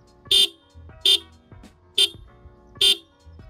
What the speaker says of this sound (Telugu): చాలా అంటే చాలా లౌడ్గా ఉంది హార్న్.